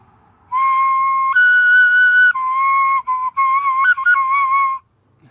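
A breathy nguru flute plays a short phrase of held, stepping notes with a few quick trills, clear and close, then falls silent.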